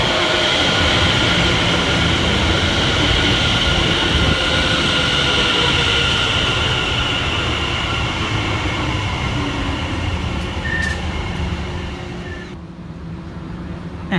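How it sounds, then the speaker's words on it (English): A Greater Anglia passenger train from London Liverpool Street to Clacton-on-Sea pulls into a station on the Great Eastern Main Line with a loud, steady rumble and wheel roar that holds for most of the stretch, then eases and drops away near the end. "the 11:52 Greater Anglia service from London Liverpool Street through to Clacton-on-Sea"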